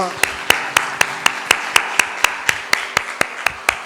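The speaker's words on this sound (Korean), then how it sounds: "하나님께 영광의 박수 올려드리겠습니다" A church congregation claps in steady unison during a Sunday worship service, roughly four crisp, evenly spaced claps per second, loud and close, running continuously with a faint tonal hum beneath.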